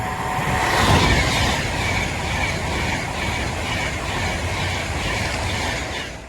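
An Avanti West Coast passenger train rumbles steadily into Rugeley Trent Valley station, a loud continuous roar of wheels and carriages with faint squealing on the rails.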